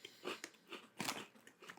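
Smoky Ghost Pepper Cheetos crunch close to the mic as someone chews, in a handful of quick, crisp bites and crackly chews spread over under two seconds.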